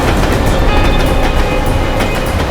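A train rumbles past close by, a steady loud low roar with faint rhythmic rattling throughout, and no voices.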